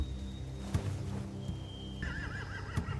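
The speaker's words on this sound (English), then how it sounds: "They have horses." Horses whinny close by in short, high, wavering neighs, with a few hoof clip-clops and thuds in a quiet setting.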